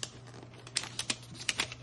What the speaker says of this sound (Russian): Бумага даже Apple-овская. Какая бумажка. Слушайте этот звук.